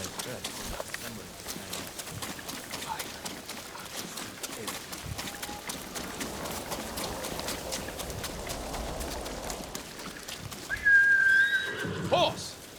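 A horse whinnies in the video game Ghost of Tsushima, a brief call near the end over constant game ambience and a sharp whistle-like tone, with talk through the clip.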